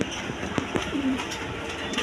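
Pigeons coo briefly at a pigeon sale, a couple of low, soft coos rising over background rustle and scattered sharp clicks.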